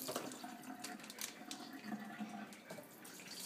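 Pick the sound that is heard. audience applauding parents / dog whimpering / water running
water running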